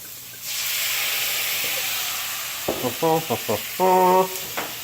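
A steady hissing sizzle starts abruptly as a hot pan of chicken piccata is deglazed, and continues, while several short tonal beeps and a longer electronic tone sound over it.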